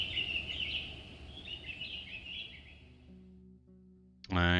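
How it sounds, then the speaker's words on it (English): Many birds sing and chirp among the collapsed roofs of a ruined village, a steady high-pitched chorus that fades out near the end before a sudden louder call breaks in. "Dozens of birds live among the collapsed roofs. The fluttering, singing, and squawking is free of worries."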